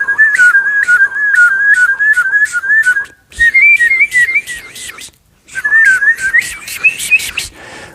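A fast palate whistle double warble, performed as rapid pulsing trills in three bursts separated by short breaks, loud and close with no talking.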